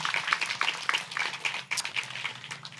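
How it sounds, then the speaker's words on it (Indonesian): A festival audience at Melawan Fest claps in a dense, steady burst of applause that holds at the same level for about three seconds. "Tepuk tangan semuanya."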